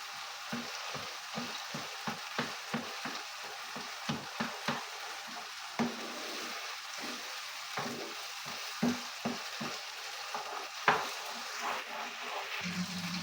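A spoonful of pepper paste sizzles in a pan with meat while a spoon stirs it, giving a constant soft frying hiss and repeated light scraping taps close by.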